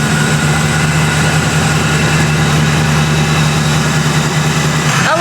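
Supercharged pickup truck engine idling at a steady low rumble, loud and close, with a faint rev or shift at the very end and no talk.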